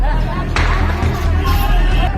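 A riot crowd armed with stones and sticks makes a dense, loud hubbub of many shouting voices, a continuous roar of babble close around the listener.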